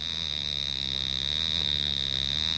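An alarm watch goes off inside a bag, giving a steady high-pitched electronic tone that persists unbroken over a low background hum.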